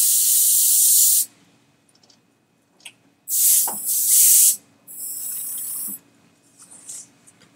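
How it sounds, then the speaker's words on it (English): An airbrush sprays special effects zombie makeup in three hissing bursts of about a second each, separated by short quiet gaps, loud and close with no talking. "So one of the defects of the airbrush is that if you turn up the air a lot or lower it a lot and you barely press down on it"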